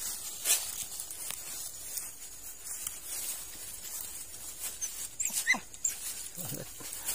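A Vietnamese chó nhách hunting dog, newly brought home and held on a leash, sniffs around outdoors with faint snuffling, light scuffs of movement and brief soft whines, with scattered quiet noise in the background.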